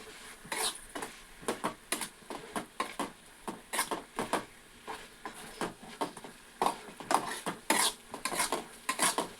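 A sweet rice flour mixture is stirred in a pan. A utensil scrapes and clinks against the pan in quick, uneven strokes, close and clear, with no talk.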